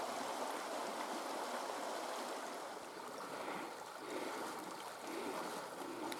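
Broadband rushing of the Cavendish River in New Zealand at a crossing near the forks, a steady full-bodied wash of flowing water close by, continuous throughout with slight swells and dips.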